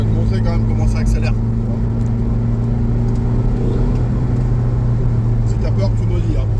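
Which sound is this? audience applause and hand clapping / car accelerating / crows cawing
car accelerating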